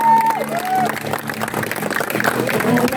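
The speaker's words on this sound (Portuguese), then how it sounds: "Aplauda o Senhor." A church congregation claps during a Sunday morning baptism service, a moderate crowd of hands beneath a held sung or spoken tone and murmuring voices, continuing through the stretch.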